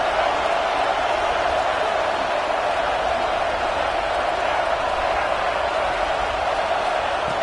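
Football stadium crowd roaring steadily as the home fans rally behind the defense in the red zone, a dense, continuous wash of cheering voices that holds at a constant level throughout, with no commentary audible.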